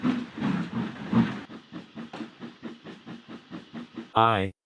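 A steam engine puffs in regular chuffs that slow and fade as it rolls up, clear and close, ending with a short whistle-like tone; a voice narrates lightly over the start.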